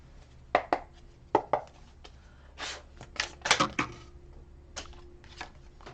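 Tarot-style message cards being shuffled and drawn, giving soft papery slaps and riffles in short bursts, close and fairly quiet, with no talking.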